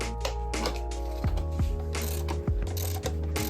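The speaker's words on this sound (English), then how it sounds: "we're going to loosen up the rear wheel" A ratchet works on the rear wheel of a Kawasaki ZX6R motorcycle, giving a close, steady run of metallic clicks with a few louder heavy turns as the axle nut is loosened.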